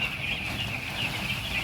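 Chickens on a poultry farm cluck and chatter in a steady, dense chorus, a continuous flock murmur with no single bird standing out.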